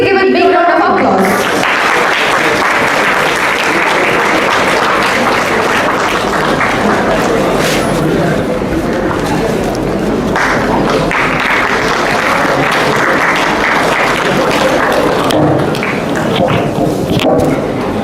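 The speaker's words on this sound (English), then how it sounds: "Please give a big round of applause." A large audience at a TEDx event claps in a loud, dense, sustained burst of applause that fills the hall without letup.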